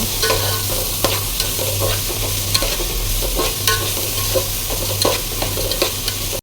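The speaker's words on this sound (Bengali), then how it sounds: "এই যে পেঁয়াজ বেরেস্তার ভিতরে তো মই চাল দিয়ে দিছি এখন সুন্দর করে ভাজা ভাজা করে নিব" Rice being fried with crisp fried onions for biryani, a loud continuous sizzle with regular scraping stirs of a spatula against the pan, no talk.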